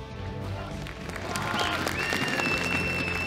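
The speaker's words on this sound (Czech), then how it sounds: "paní, potlesk" A crowd applauds a cosplay contestant at a ROG cosplay contest. Steady clapping fills the room, and a high electronic tone rises partway through.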